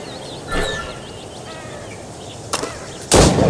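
Gunshots fired at stationary targets in Assassin's Creed Rogue, a few sharp single reports spaced apart, the last one loudest, over quiet ambience with faint bird chirps.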